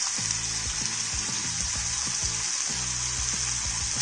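Khada masala with garam masala, coriander, turmeric and red chilli powder frying in a pan, a constant bright sizzle with rhythmic low scraping from stirring.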